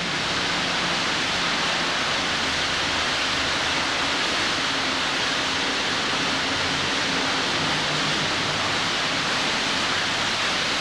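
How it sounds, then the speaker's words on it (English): Water pours steadily from a deep manhole structure into a large underground sewer tunnel, a constant loud broadband rush that fills the whole stretch without pause, with no voices. "The water that you hear falling into the main tunnel"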